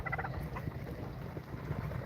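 Heritage breeder turkeys, a mixed flock including bronzes, gobble in a steady, busy chorus of low, rough calls that runs continuously through a windy outdoor background.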